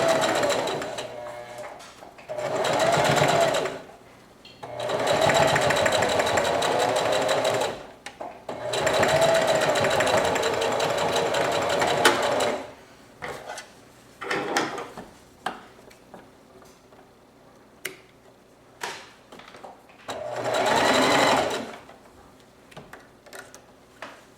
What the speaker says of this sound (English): I'm going to do one more round of stitching on both sides just to make sure it's really reinforced